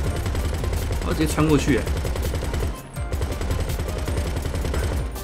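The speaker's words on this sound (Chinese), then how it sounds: "后面的机枪是这样设计的" A rear machine gun fires on a plane in GTA 5, a rapid, continuous rattle loud and close for several seconds, briefly pausing midway, with someone speaking over it.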